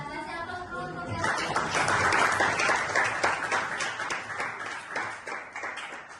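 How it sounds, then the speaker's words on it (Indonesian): A classroom of students breaks into lively applause, a burst of many hands clapping that swells quickly and then fades into scattered claps. "kasih aplaus dulu untuk yang"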